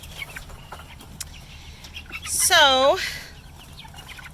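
Young chickens kept in a brooder with day-old meat bird chicks give one loud, quick descending call midway through a soft, constant background hum, and a person says a word.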